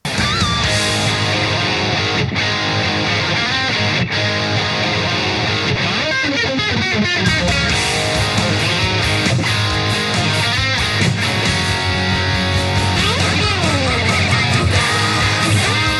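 Distorted electric guitar wildly bending pitch with the whammy bar in the frantic section, loud and dense with swooping dives and squeals throughout, no talking.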